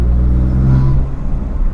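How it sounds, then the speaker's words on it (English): A BMW F80 M3 engine gives a short, deep, rumbling rev, loud and close, swelling briefly before easing off. "who cares about 0 to 100 when you've got a car that sounds like this"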